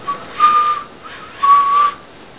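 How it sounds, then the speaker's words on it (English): A person whistles two sustained, steady notes, each lasting about a third to half a second with a short gap between, close and fairly loud with no talking. "Why am I whistling?"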